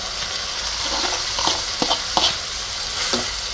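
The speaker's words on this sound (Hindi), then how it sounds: "अब हम इसमें राइस को डाल के और मिक्स कर देंगे।" Cooked rice is stirred into a hot frying pan for fried rice, a steady sizzle broken by several sharp scrapes of a spatula against the pan.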